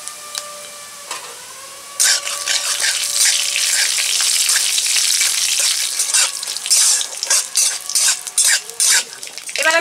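Whole cumin, dried red chilli, black mustard seed, five-spice tempering and a pinch of asafoetida crackle into hot mustard oil, a loud steady sizzle that jumps up suddenly and runs on with spattering pops and the scrape of stirring.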